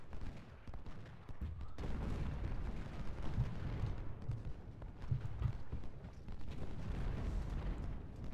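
Artillery fire in a Civil War battle game, a dense ongoing rumble of distant cannon and musket volleys with scattered thuds over a low, steady roar.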